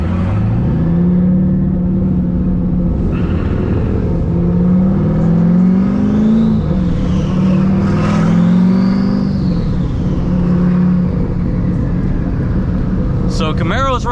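A Chevrolet Camaro drift car's engine runs steadily while driving, a continuous droning hum with gentle pitch rises as it accelerates, heard from inside throughout, with people talking over it.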